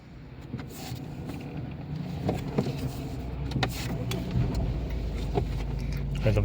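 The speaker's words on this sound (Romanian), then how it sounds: "Vom porni motorul să vedem." A Ford car engine starts and idles with a steady low rumble, joined by a few faint clicks and small mechanical knocks.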